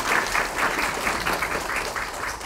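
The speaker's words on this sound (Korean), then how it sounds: "다시 한번 우리 이미자 교수님께 박수 부탁드리겠습니다" Audience applause at an academic conference panel discussion, a dense, even wash of clapping hands lasting throughout, moderately loud and continuous.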